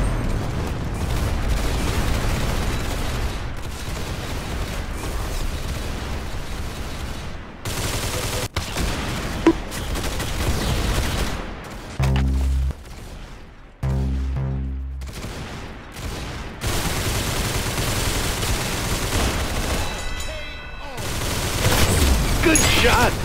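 Rapid gunfire and booming blasts in the Roblox game Arsenal come in loud bursts, with short gaps and rattling volleys throughout.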